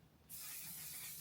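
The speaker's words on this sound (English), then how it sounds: "this is a Mattifying waterproof setting spray by Until Done" A mattifying waterproof setting spray is misted onto a face in one soft, brief hiss that starts abruptly and holds steady, close and quiet.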